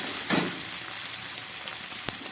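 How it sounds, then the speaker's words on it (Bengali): Chopped tomato dropped into onions frying in a pan, a soft steady sizzle with a brief louder burst near the start, quiet and close, no talking. "পেঁয়াজটা হালকা ভাজা হয়ে গেল, এবার আমি দিয়ে দিচ্ছি এর মধ্যে কেটে রাখা একটা টমেটো"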